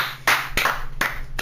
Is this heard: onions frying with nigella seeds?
no